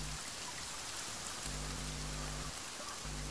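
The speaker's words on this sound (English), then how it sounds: "Oh, raining." Steady rain pours in The Forest survival game, a constant broadband hiss of drops falling on surfaces, fairly faint and even throughout, with no one talking.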